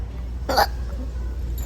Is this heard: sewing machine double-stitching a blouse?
no